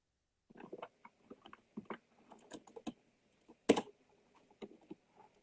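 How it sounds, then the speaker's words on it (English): Someone types a search on a computer keyboard: quiet, irregular clicks and taps of keys in short bursts, close up, with one sharper louder clack near the end and no talking. "Type in MH and then space BELLA."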